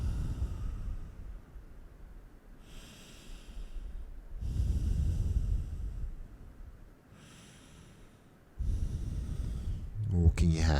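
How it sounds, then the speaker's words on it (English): Slow, deep breaths during a yoga session, several long broad inhales and exhales spaced a few seconds apart, close and fairly soft with a louder breath at the end. "4 deep breaths in. Slow, long breaths out."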